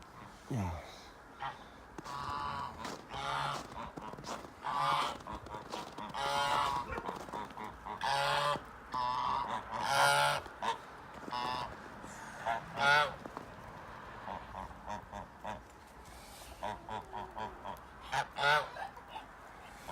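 Repeated loud honking from several geese, irregular bursts close by, with quieter stretches between calls and some faint background voices.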